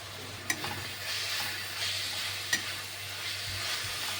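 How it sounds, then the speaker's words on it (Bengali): Spice powders such as Kashmiri chilli and garam masala sizzling in a pan for kuska pulao, a soft continuous fry with a couple of sharp clinks from a spoon stirring and scraping. "মশলাগুলো একটু কষিয়ে নেব।"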